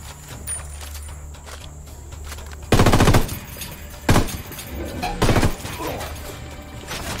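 Gunfire in Ghost Recon Wildlands: loud automatic bursts erupt in three short volleys over a low background hum, each dense rattle cutting off abruptly.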